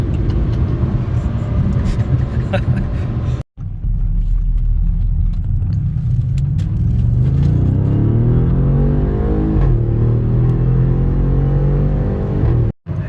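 A Ford Taurus in sport mode accelerating, heard from inside as a loud, steady engine rumble and road roar with a rising, swelling tone, the drone continuous apart from two brief dropouts, no voices.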